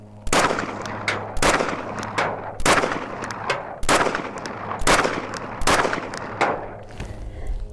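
Six loud 10mm pistol shots fired during a red dot sight durability test, sharp close reports spaced roughly a second apart, each followed by a brief ringing decay outdoors.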